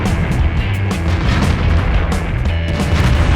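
Tank cannon fire and explosions from a tank video game, a dense, loud barrage of booms and blasts continuing without a break, with repeated sharp reports rising over a constant low rumble.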